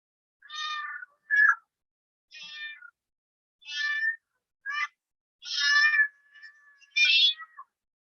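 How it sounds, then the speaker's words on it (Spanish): A cat meows about eight times at an uneven pace, each call short and fairly quiet, close by in an otherwise silent room. "Ese es un gato."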